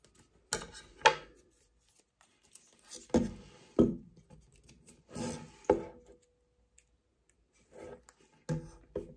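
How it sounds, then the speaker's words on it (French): Scissors trim new light-seal foam for a Canon AE-1 Program camera, a series of short snipping and rubbing bursts spaced irregularly with brief silences between, close and quiet. "Donc on vient retoucher avec le ciseau."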